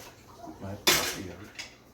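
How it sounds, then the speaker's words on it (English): A metal pot set down in a home kitchen while cooking Jamaican-style oxtail sauce, one sharp clank at close range followed by a lighter clink, over faint background murmur. "Put my pot here."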